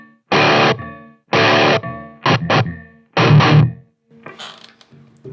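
Ibanez RGAR42MFMT electric guitar played through a Line 6 Powercab Plus miked with a 57, heavily distorted chords struck in loud bursts with short gaps and quick stabs, followed by fainter ringing noise.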